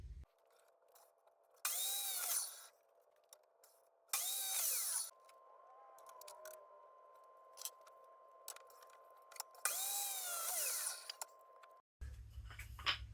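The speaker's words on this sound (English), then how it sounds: "I'm going to cut the dowels down to 12-inch pieces" A power saw cuts wooden dowels into 12-inch pieces for a blanket ladder. Three short, loud buzzing cuts each rise and fall in pitch, separated by quieter motor hum and handling noise, followed by a dull thud at the end.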